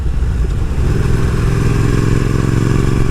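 A motorcycle being ridden on a road lined with cypress trees, its engine a loud, close, steady rumble with a continuous low drone and no talk.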